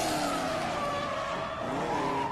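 Drift cars at the 2015 Red Bull Car Park Drift event in Oman make a loud, continuous tyre screech over steady engine roar as they slide through the car-park course.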